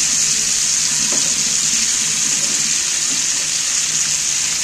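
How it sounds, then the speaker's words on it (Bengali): Chicken pieces fry in a pan, village style, with a loud, steady hiss of hot oil, and a few faint knocks as the pieces are turned over one by one. "আমি এইবার খুলে আমি 1 পিস করে উল্টিয়ে দিচ্ছি মাংসটাকে"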